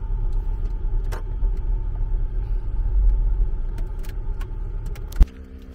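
Steady low road rumble from inside a moving car in Penghu, with the engine noise holding even and a sharp click near the end; no one speaks.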